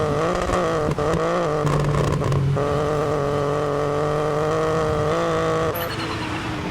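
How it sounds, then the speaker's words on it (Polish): A Ford rally car engine in the Junior WRC class of WRC 9 at Rally Sweden revs and shifts continuously, its loud, close whine rising and falling through gear changes. "pozmieniali na pewno dźwięk silnika, jeżeli chodzi o e, tego Fordzika w klasie Junior WRC"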